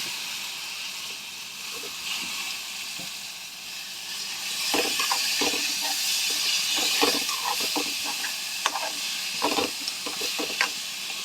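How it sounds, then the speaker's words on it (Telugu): Soaked mung dal frying in a little oil with chili powder: continuous loud sizzle and hiss, growing busier midway, with scraping stirring strokes and clinks throughout. "కొద్దిగా నూనెలో కుక్ అవ్వాలి"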